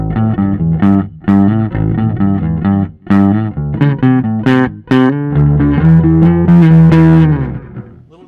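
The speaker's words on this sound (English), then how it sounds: "Little distortion there." Bass guitar played through a 1967 Ampeg Gemini II amplifier with mild distortion, a loud run of plucked notes and short phrases ending in a long sustained tone, heard alone.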